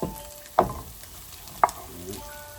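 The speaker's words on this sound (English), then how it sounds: "Add the onions." Onions frying in oil in a pan while making Trini-style cod fish: a soft, steady sizzle with two sharp, close pops of spattering oil.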